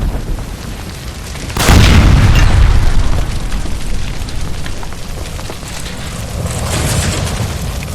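A gas line by a stove explodes in the video game L.A. Noire, a sudden loud boom followed by a long rumbling roar and crackling debris, with no talk over it.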